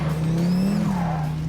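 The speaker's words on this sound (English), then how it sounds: "There's a massive turbo whine, but there's not a massive amount of turbo lag." A Donkervoort D8 with a tuned Audi turbo engine gives a loud, close high whine with tyre squeal as it power slides, the pitch rising and falling across the slide.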